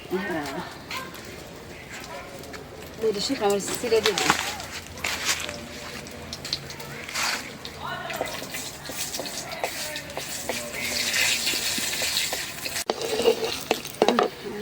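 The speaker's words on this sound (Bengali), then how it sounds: "তেল দিয়ে দিই সরষের তেল" Mustard oil hits a hot pan and sizzles while a fish curry with green banana is cooked. A steady hiss and crackle runs beneath stirring clatter and ongoing talk.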